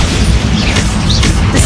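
Bombarda spell blast in Hogwarts Legacy, a dense low boom that rumbles steadily through the short moment, loud and close, with faint crackling debris on top.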